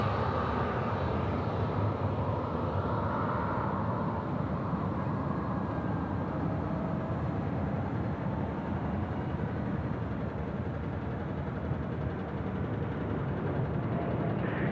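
A Qantas Freight plane rolls for takeoff at Sydney Airport as a broad, continuous jet roar heard from a distance, steady and unbroken for the whole stretch with no voices.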